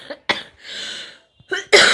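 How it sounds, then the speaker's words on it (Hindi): Several harsh, throaty coughs in quick succession, loud and close, with short pauses between bursts. "मेरी खांसी रुक कर नहीं"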